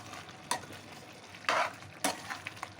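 Mutton curry sizzles gently in a pan as coriander powder is stirred through it, quiet frying punctuated by three or four distinct scraping stirs of a spoon against the pot, with no talking.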